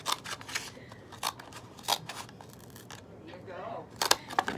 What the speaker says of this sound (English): So I'm using small scissors, so it takes me a couple seconds to cut this